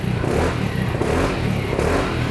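A Vespa Super scooter fitted with stainless headers and a baffle revs up close by, its engine giving a loud, steady buzzing rumble with slight pulsing swells.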